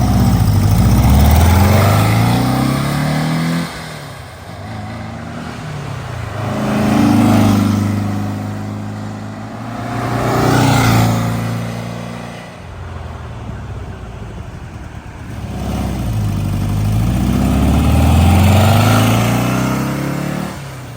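A 1963 Porsche 356C coupe makes repeated flyby passes, its engine note rising as it approaches and falling away with a pitch sweep, heard from the roadside about four times with quieter gaps between passes.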